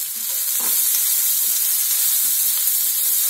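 Diced potatoes frying in hot oil in a pan after salt and turmeric go in, giving a loud, close, continuous sizzle with a few louder spits and crackles as the pieces are stirred.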